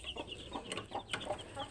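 A broody hen in a new coop, kept with her newly hatched chicks, gives soft, repeated clucks close by in a quick, uneven rhythm.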